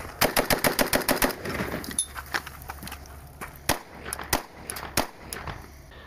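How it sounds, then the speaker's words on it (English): Rapid gunfire from an AK rifle, a fast string of about ten sharp shots, then a switch to a pistol with a handful of spaced, loud single reports. The shots ring out close against an outdoor background hum. "we are going to show the transition from the AK to the pistol"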